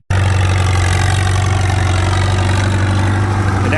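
A Farmall 450 tractor engine idles at an antique tractor plow day, a loud, close, steady low rumble that holds evenly throughout with no other sounds.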